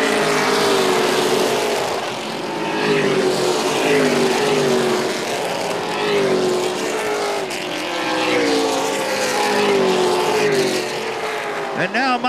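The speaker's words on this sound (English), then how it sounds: "Car breakaway right there with Curry, Smith, and Luza." CTS Pro Late Model race cars roar around the track in a continuous loud engine drone with rising and falling pitch as the pack passes, under excited race commentary.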